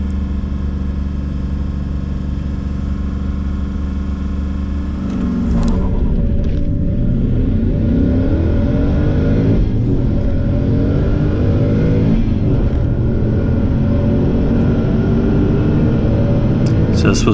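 At the Oamaru Airport drag strip, a drag racing car, a VF SSV 375 Walkinshaw among them, roars as it accelerates hard with rising engine pitch, loud and continuous, heard steadily throughout.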